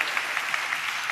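Congregation clapping together during a church service, a steady, even patter of many hands at moderate volume with no voices over it.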